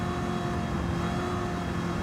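A 1969 Camaro Z28 in Gran Turismo 7 roars steadily under throttle, a dense, continuous engine note holding loud and close for a couple of seconds with no talk.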